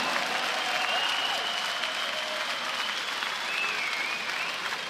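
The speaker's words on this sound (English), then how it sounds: "einen großen Applaus, big applause for both fighters on this evening" A boxing crowd applauds both fighters after Dominic Bösel vs Sven Fornling, a steady, dense roar of clapping across the arena, with thin whistles rising above it.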